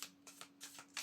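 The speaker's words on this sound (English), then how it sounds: "I'm still shuffling, so I'm going to put it back" Tarot cards being shuffled by hand, with several quick, soft riffling bursts in a steady rhythm, close and quiet.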